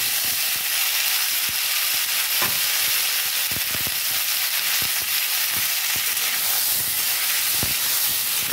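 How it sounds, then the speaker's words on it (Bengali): Tomatoes frying in a small amount of oil for a tomato pickle, a constant loud hiss and sizzle close by, with scattered pops and soft stirring knocks throughout. "টমেটোগুলোকে একদম ভালো করে আমি ভেজে নেব।"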